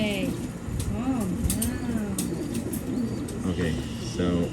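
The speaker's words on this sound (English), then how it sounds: "the birds are so loud" Racing homing pigeons coo and scuffle close by in a loft, with repeated throaty coos, wing flaps and brief scrabbling, while a person talks over them.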